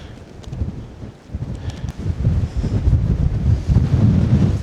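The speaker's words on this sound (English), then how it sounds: "Can't stand that wall today, it's too windy" Strong gusty wind at an off-grid lake cabin construction site buffets the microphone with loud, low rumbling that builds and stays heavy toward the end.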